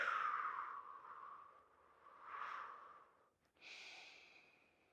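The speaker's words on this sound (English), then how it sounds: "Breathing nicely into the whole body." Slow, deep breathing during a seated yoga stretch, with long soft airy inhales and exhales rising and falling across the stretch, close and quiet with no talking.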